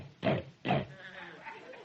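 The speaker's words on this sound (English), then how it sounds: "the snort of the water buffalo" Two short, harsh snorts from a water buffalo in quick succession, close by, followed by a softer rumbling breath.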